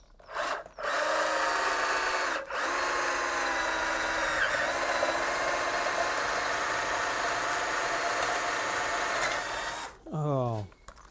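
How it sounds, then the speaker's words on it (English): A power drill whines at a steady high speed for several seconds drilling a hole in wood for a birdhouse, briefly stopping twice, then winds down at the end. "Lock that in and drill a hole."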